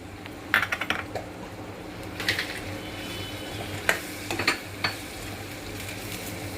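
A spatula scrapes and taps against a pan while capsicum sabzi dusted with gram flour is stirred, irregular clinks and scrapes over a soft sizzle, close and moderate in level.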